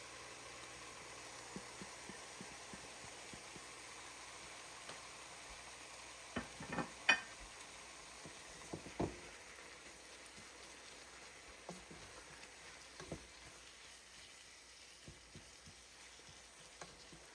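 Minced meat with spices cooks in a pan while being stirred, giving a faint, steady sizzle with scattered soft scraping and clicking taps of the utensil, quiet and close, with no talking.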